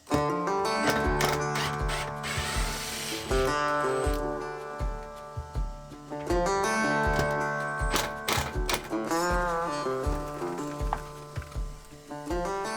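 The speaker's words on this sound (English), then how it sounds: "So I'm going to undo these screws and try and remove this off." Screws being undone by hand to remove an access panel on a boat, heard as repeated close ratcheting clicks and metallic turning in bursts with short pauses, steady throughout.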